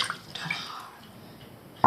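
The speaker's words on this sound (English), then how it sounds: "So to start, just add water in your bowl." Warm water is poured into a mixing bowl for bread dough, a brief splashing gush that fades to a quieter trickle and ends with a small knock.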